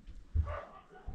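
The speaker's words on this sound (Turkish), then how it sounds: "Köpek sesi duyuyorsun ya." A dog gives a short bark or yip, a brief burst in the middle of a quiet moment, heard once at moderate distance.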